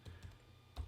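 Several quick key presses on a computer keyboard as a terminal command is typed, soft close clicks in an uneven rhythm with short pauses between strokes.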